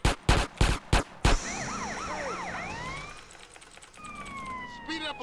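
A police car siren in a video game wails in rising and falling sweeps after a run of loud, sharp bursts, then fades to a fainter, thinner wail.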